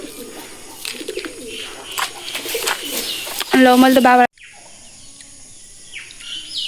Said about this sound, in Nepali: ओहो चराहरू कराइरहेको